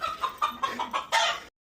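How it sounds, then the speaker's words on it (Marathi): A white rooster kept in a house clucks in a quick series of about six short, close, loud calls, the last one longer and stronger, then silence. "टॉबी असून घरात एक कोंबडा आणला"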